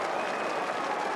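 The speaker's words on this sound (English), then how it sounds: "Finally, something to cheer about for the Crows fans in the crowd" Adelaide Crows fans cheer and applaud in the crowd at an AFL match against Carlton, a dense, steady wash of distant clapping and crowd noise throughout.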